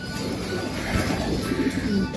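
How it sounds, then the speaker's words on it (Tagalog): Soft, low coos from a racing pigeon repeat near the end over a noisy outdoor background with a steady hiss, during a pigeon race in Calauag, Quezon. "Lakas pang ibon, no?"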